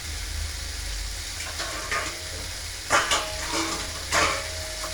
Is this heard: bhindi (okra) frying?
yes